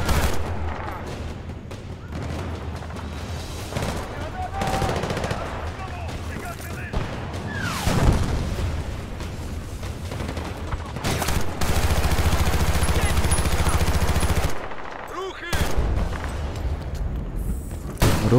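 Gunfire and explosions rattle through a Battlefield Bad Company 2 match in a port setting, dense bursts of shots and booming blasts over a continuous battle roar, with a player talking over it.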